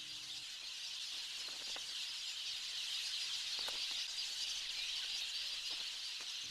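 Weaver birds call in short, high chirps and squeaks scattered over a constant bright hiss of insects or background, faint and fairly distant, with no voices.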